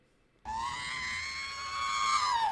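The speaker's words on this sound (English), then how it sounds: "And again, R2D2 screaming." Supercharger blower on a Ford F-150 lets out a loud, steady high-pitched whine that slides and warbles like a robot's electronic scream, starting abruptly after brief near-silence and holding strong for about two seconds.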